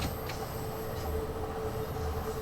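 A Bakerloo Line tube train runs on London Underground track in Train Sim World 2, a steady rumbling drone of wheels and motors with a faint whine and occasional rail clicks, continuous and close.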